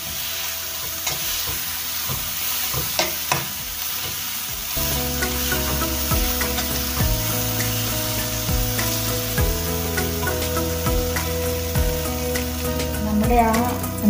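Brinjal curry mixture with tomato is sautéed in a pan, giving a steady close sizzle and frying hiss with repeated scraping and stirring strokes, running continuously for about fourteen seconds without talk.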